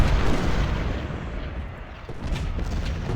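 Artillery fire in Ultimate General: Civil War at the Battle of Fredericksburg comes as a heavy, continuous rumble of distant booms blending into one another, with a slight dip before building again.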